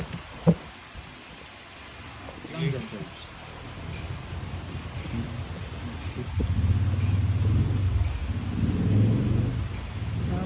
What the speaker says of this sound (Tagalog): Kaya pala ang lakas ng ulan ngayon eh.